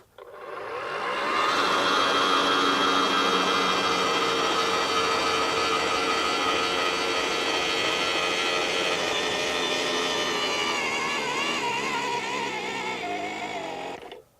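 Ryobi RY40710 40-volt 8-inch earth auger on its high speed setting boring a hole in the ground, a strong steady whining motor drone that holds for most of the clip and then winds down.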